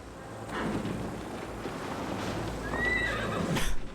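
A horse in the video game Assassin's Creed Valhalla gives a clear, fairly close whinny over a low, windy outdoor background.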